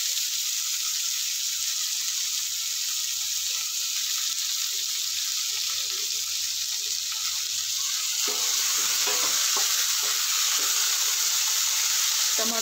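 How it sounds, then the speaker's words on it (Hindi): Tomato and onion fry for cabbage sabzi, giving a steady, even sizzle through the whole stretch, with a few soft stirring scrapes near the end. "टमाटर और प्याज को हम सॉफ्ट कर लेंगे फ्राई करके।"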